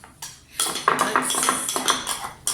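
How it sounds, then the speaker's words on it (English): Eggs being whisked in a bowl with metal cutlery for Halloween cookie dough, a quick run of close, bright clinking and scraping strokes against the bowl with no talking. "mix my eggs"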